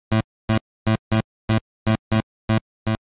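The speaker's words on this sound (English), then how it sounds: "This part emphasizes a repeated rhythm that's known as the pop clave rhythm or trisio rhythm" Short, loud chopped chord stabs from a video game theme tap out the pop clave rhythm, evenly spaced bursts with silence between them, repeating in a tight syncopated pattern.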